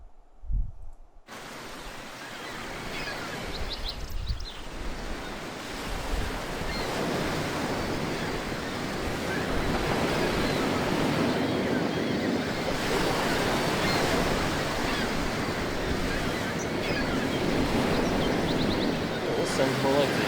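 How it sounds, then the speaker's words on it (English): Steady ocean surf in the Baldur's Gate video game: a broad, continuous wash of waves and wind that swells after a short opening and keeps rolling evenly, with no speech over it. "Oh, this sounds more like the ocean."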